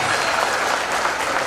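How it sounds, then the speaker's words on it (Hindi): A large crowd at a live Shiva Mahapuran religious discourse in Sehore, Madhya Pradesh claps loudly and continuously, a dense wash of applause with no talk over it. "एक बार जोरदार ताली बजाएं।"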